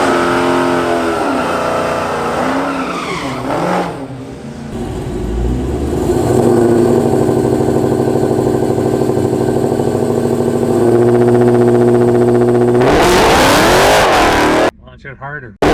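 Dodge Challenger Hellcat at a drag strip revs and launches, a loud, close engine roar that climbs through long sustained pulls before cutting off near the end, with people talking over it.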